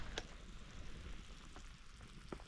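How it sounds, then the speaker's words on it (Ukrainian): Pork ribs simmer in a cauldron outdoors, giving a faint, steady bubbling and crackling with a few soft pops, quiet and alone. "Реберцята бурлять."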